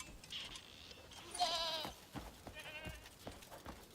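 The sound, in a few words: goats bleating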